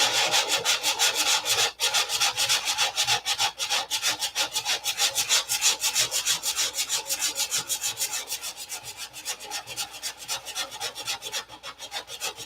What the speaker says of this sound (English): Remember sanding.